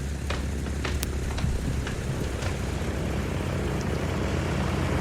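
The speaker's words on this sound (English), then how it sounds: "The plane you're waiting for is landed." An arriving airplane taxiing close by, its engine giving a steady, loud, unbroken roar with a faint rattle, and no voices.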